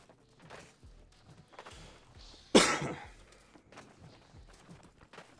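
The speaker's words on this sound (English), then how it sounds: "Nice coughing in the mic, because I'm open mic" A single loud, harsh cough into an open microphone during a game voice chat, standing out against quiet background clicks and faint murmurs.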